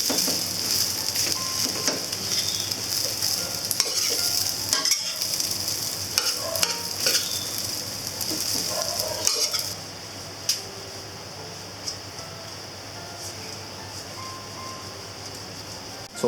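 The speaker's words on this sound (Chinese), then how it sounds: "继续翻炒，使米饭粒粒分明。" Egg fried rice tossed in a hot wok gives a dense sizzling rustle of grains and spatula scrapes, loud for about ten seconds before quieting to a faint hiss with a few clinks.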